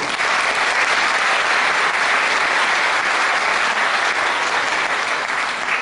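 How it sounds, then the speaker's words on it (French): Sustained applause from an audience at an association's awards day in Dijon, a dense, steady wash of many hands clapping at even loudness throughout, with no voices on top. "je vous demande de l'applaudir parce que c'est un exploit en soi"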